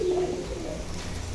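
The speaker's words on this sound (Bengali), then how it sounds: "একদম ইম্পোর্টেড ব্লাড লাইনের কবুতর" A pair of imported-bloodline Teddy pigeons coo close by, a brief soft low cooing call at the start followed by quiet ambient rustle.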